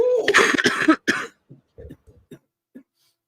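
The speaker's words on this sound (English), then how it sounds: "I have one of the nastiest weed coughs you'll hear ever." A short burst of harsh, raspy coughing from a person with a smoker's cough, several rapid hacks up close, trailing off into a few faint throat-clearing sounds and quiet breaths.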